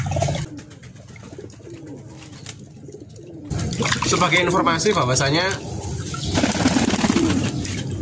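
Pigeons cooing, low soft throaty coos repeating close by, heard mostly under someone talking, with some watery splashing in the background.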